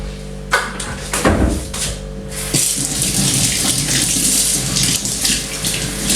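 Tap water running into a kitchen sink as it is wiped clear of crumbs, a steady close gush after a few clunks and knocks of handling at the start, with no voices.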